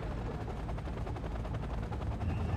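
A helicopter setting down in the real-time strategy game Act of War: Direct Action, a dense steady rotor roar mixed with rattling gunfire-like chatter, loud and continuous with no speech.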